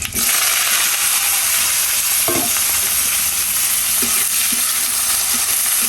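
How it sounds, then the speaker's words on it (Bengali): Eggplant fries in a pan with cumin and garlic, giving a dense, constant sizzle with occasional clinks and scrapes of a utensil against the pan; no one speaks. "বেগুন ভাজি, সঙ্গে একটু জিরা দিলাম, দেব একটু রসুন, এবার এখানে বেগুন কাটা আছে, বেগুন কাটা দিয়ে দেবো"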